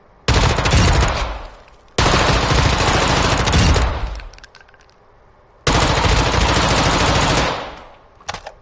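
Automatic gunfire from a weapon loadout in Modern Warfare II, heard as three long, loud, continuous bursts separated by short pauses, close and with no talking over it.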